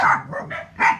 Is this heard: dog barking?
yes